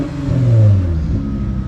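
A 2.5 V6 car engine with an exhaust revs up with a deep, throaty rumble that rises and then settles back to a steady idle, close by, at a car auction.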